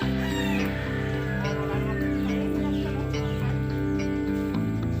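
Backyard-raised fighting roosters cluck and crow close by, several birds calling in overlapping bursts over a steady low background drone.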